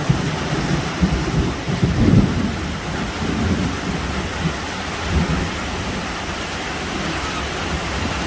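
Heavy midday rain pours down steadily, hissing on surfaces, as deep thunder rumbles and rolls at intervals, loud and close throughout.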